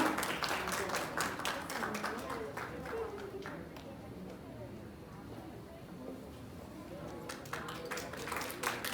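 Scattered clapping from the audience at a Uttarakhand community festival in Japan, with sharp individual claps thinning in the middle then picking up again, mixed with chatter and voices in the room.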